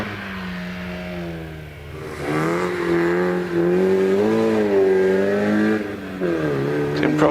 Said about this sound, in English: as Aaron gets away in that Mini Cooper